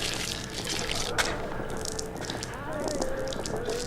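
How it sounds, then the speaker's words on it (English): Dripping blood in the Sherlock Holmes vs Jack the Ripper video game, faint wet drips and squishy trickling under a murky ambient game background, with no talk. "Ugh, dripping blood."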